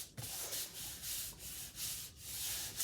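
A star stencil is rubbed and smoothed down by hand in rhythmic, fairly loud scraping strokes, about one every half second, with no talking.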